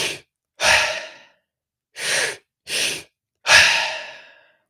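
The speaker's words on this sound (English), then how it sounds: "you can inhale and exhale through the mouth" Mouth breathing during a breathwork exercise: five loud, close breaths, each a forceful airy inhale or exhale through the mouth, separated by short silences, with no talking.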